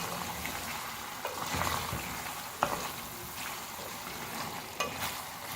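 Garlic chicken karahi stirred in a pan, a soft steady sizzle with faint scraping and a few sharp clicks of the spoon against the metal, low and quiet.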